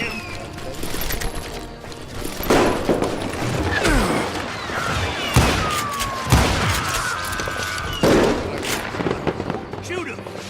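Repeated gunfire in the Western shooter game Call of Juarez: Gunslinger, with several sharp shot bursts and echoing volleys over a busy, loud battle bed, and voices shouting at times.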